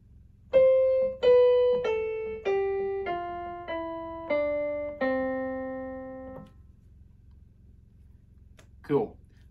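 A simple fruit-piano tune plays in reverse: seven clear electronic tones step downward one after another at an even pace, then a brief rustle follows after a pause.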